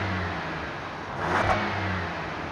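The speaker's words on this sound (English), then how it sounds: "Sounds pretty all right for a 6-cylinder." A 2023 Jeep Grand Wagoneer L with a twin-turbo six-cylinder engine heard from outside at the rear, giving a steady close idle hum that swells briefly into a short rev midway before settling back.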